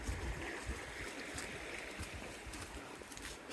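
Moshannon Creek, a Pennsylvania stream, flows with a soft, steady wash of water, faint and continuous with no voices.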